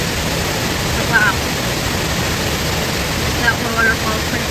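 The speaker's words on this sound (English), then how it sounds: "that waterfall is pretty cool today" A waterfall in the woods pours as a constant broadband rush of falling water, steady and fairly loud, with a few faint bird chirps above it.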